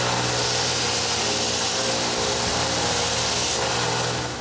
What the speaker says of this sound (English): And finally, I can use my new sander.